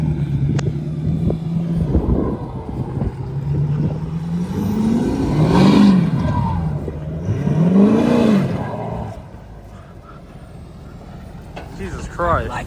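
A diesel truck engine revs hard twice in long climbing and falling swells at a night gathering of diesel trucks and bikes, loud and nearby, with people talking over it before it settles to a low idle.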